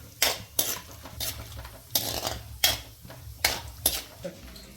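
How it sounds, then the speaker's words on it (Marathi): Dry fruits roasting in a pan on a low flame for homemade carrot halwa, with a spatula scraping and clinking against the metal about eight times in a steady rhythm, close up and with no talking. "तर लो फ्लेमवर आपण ड्रायफ्रुट्स भाजून घेणार आहोत."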